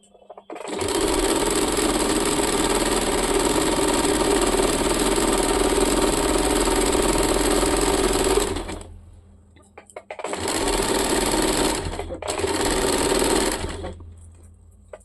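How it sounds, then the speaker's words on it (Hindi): A sewing machine double-stitches a churidar in a long steady whirring burst, stops, then stitches again in two shorter runs, close and loud with no talking. "अभी हम लोग इसमें डबल सिलाई डाल देंगे"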